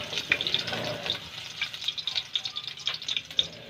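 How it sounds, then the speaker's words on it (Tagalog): Ginger sautéing in hot oil in a pan for adobong papaya, a fairly quiet crackle with rapid spatter pops and faint stirring, no speech. "Unahin ko na igisa yung luya."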